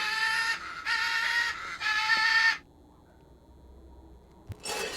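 Parrot squawking in the adventure game Secret Files 2: Puritas Cordis, with three loud harsh screeches back to back, then a short lull and one more squawk starting at the end.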